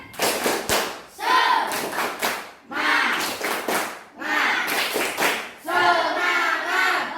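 A classroom of students performing a rhythmic clapping cheer, bursts of patterned claps in repeating phrases separated by short pauses, with children's voices chanting along.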